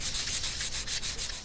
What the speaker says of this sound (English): We're sanding soap holders.